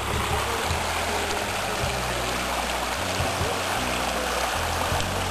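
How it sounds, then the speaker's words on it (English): A small mountain stream runs over a vein of shale on a hiking trail near the Maroon Bells, giving a steady, close, broadband rush of flowing water with faint low thumps underneath. The sound continues throughout. "there's a nice little stream running down through a vein of shale"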